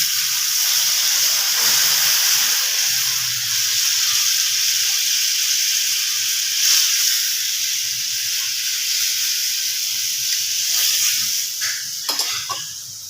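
Water poured into a Bengali bhetki fish curry frying in a pan gives a steady, close, loud sizzling hiss that runs throughout without any talk, easing slightly near the end.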